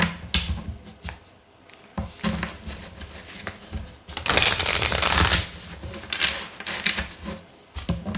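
Tarot cards are shuffled by hand in close, loud riffles and slaps, with irregular bursts of flicking and one longer, denser riffle in the middle, and no voice over them.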